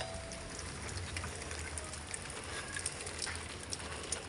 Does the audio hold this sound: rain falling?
yes